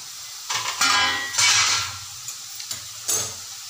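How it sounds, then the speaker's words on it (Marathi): Potatoes frying in oil in a pan for sabudana khichdi, cooked under a lid: short bursts of sizzling mixed with clanks and scrapes of metal utensils on the pot, no voices. "बटाटे छान असे तळून निघतील तेलात, म्हणजे भाजतील"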